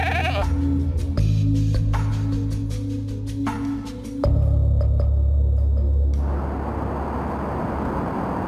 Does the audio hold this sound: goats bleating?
yes